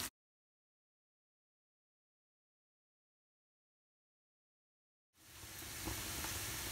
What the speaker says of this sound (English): over here I am frying these onions